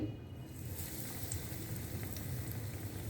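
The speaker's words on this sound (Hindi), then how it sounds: "अब इसी तरह ही मैं बाकी सारे आलू भी फ्राई कर लूँगी।" Potatoes fry in hot oil with a soft, continuous bubbling sizzle, steady and faint throughout, with no voices.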